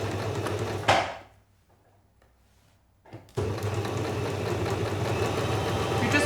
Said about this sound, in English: I'm going to start sewing the sleeve in now.